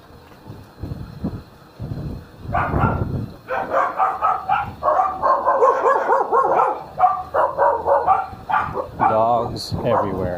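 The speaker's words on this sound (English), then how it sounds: "Dogs everywhere." Several dogs bark in a residential neighborhood, a loud, close burst of overlapping barks and yips that keeps going for most of ten seconds after a quieter start.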